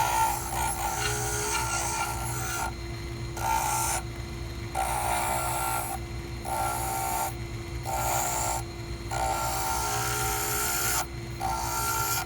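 A dental handpiece with an egg-shaped burr grinds the land area of a relined denture in a high, steady whine. It cuts in repeated bursts, each broken by short pauses, close and alone.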